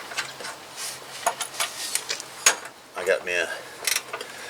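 A 9/16 wrench clicks and ratchets in short metallic bursts while a belt is refitted on a Husqvarna Z254 riding mower, close and intermittent under brief speech.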